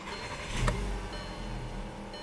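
A Volkswagen Rabbit Mk5 engine starts with a short crank and catch, then settles into a low steady idle, heard up close with no talk.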